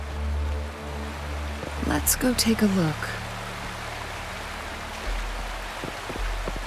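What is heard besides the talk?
waterfall in video game Wuthering Waves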